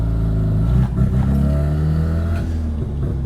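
A car engine drones loudly up close, its pitch shifting as an 8HP automatic transmission is downshifted in manual mode at slow speed, with a brief dip near the start and no talk.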